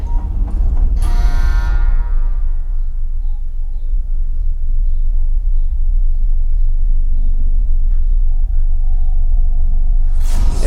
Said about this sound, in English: everything quiets down except for this like pulsating bass